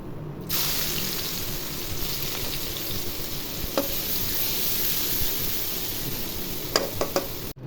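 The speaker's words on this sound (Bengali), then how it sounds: "ওই তেলের মধ্যে পেঁয়াজের ব্যবস্থা করে নিব" Sliced onions fry in the oil left over after frying shrimp, for a shrimp dopiaza. A continuous close, hissing sizzle is broken by a few sharp clicks of stirring near the end.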